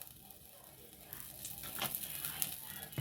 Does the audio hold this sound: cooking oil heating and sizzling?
yes